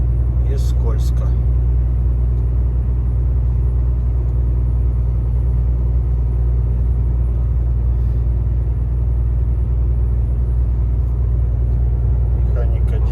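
A truck with a manual transmission crawls up a long, slippery uphill grade in 10th gear during a blizzard in Zabaykalsky Krai, producing a loud, steady low engine drone that stays constant throughout.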